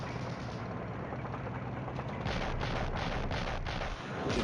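Artillery fire in the Cold War strategy game Flashpoint Campaigns: a dense, continuous rumble of overlapping distant booms forming a steady barrage with no pauses and no voices.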